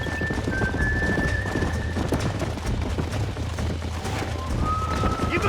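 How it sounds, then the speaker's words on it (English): Wild horses galloping in the Red Dead Redemption video game, a steady drumming of hoofbeats with a whinny, loud and close, while people talk over it. "There's the horses!"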